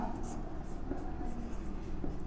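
Pen or chalk writing out a physics definition by hand during a Hindi-language class lesson, a steady soft scratching that runs continuously under a teacher's voice.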